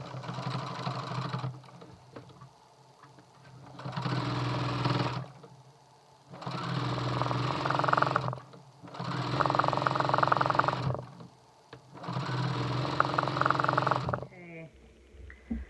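A sewing machine stitching quilt binding at a mitered corner, running in four loud close bursts of a few seconds each separated by quiet pauses, with a short handling clatter at the end.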